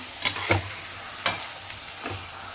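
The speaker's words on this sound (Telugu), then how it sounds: "ఇప్పుడైతే ఈ ఆయిల్లో ఇది చికెన్ అయితే బాగా కలిపెట్టుకుందాం" Chicken being stirred into hot oil for chilli chicken, with a few sharp spatula scrapes against the pan over a low, steady sizzle; no voices.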